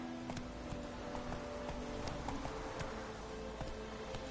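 Roach the horse galloping in The Witcher 3, with fast, rhythmic hoofbeats repeating steadily over a low background hum, no talk heard.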